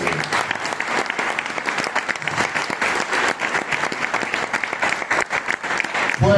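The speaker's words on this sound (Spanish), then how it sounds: "Fuerte el aplauso." A church congregation claps loudly and steadily, a dense wash of hands kept up from start to finish, with voices faintly mixed in.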